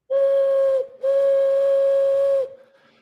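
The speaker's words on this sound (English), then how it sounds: "We got the train coming in, man. The train, CSX." A CSX train's whistle sounds in two long, steady blasts, the first cut short and the second held longer before trailing off, loud and close with no talking.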